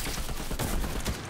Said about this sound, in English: the combat assault rifle doesn't have any recoil